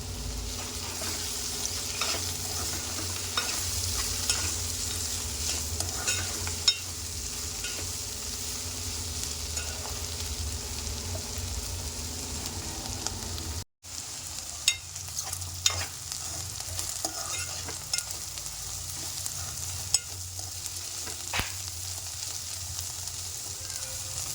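Ivy gourd (dondakaya) pieces fry with curry leaves in a pan, a continuous bright sizzle broken by scattered scraping stir clicks, close and steady apart from one brief dropout midway, with no voices.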